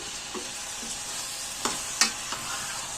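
Chopped hot chillies and bell peppers sizzle in a hot pan as they are stirred, a steady frying hiss broken by a few soft scrapes and knocks of the spoon.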